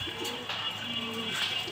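Racing pigeons coo in low, soft, drawn-out calls at moderate distance, with light background hiss and no one speaking.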